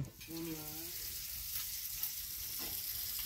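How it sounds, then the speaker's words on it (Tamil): Fish frying in a pan makes a soft, continuous sizzle at low volume, with a brief voice early on and a few faint stirring clicks. "மீனை வறுத்து விட்ருவோமா?"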